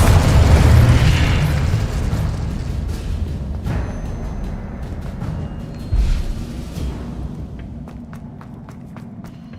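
Confringo explosive spells blasting in the game Hogwarts Legacy, a loud booming burst with deep rumble that decays over several seconds, a second thump around midway, and light clicks and footsteps trailing off.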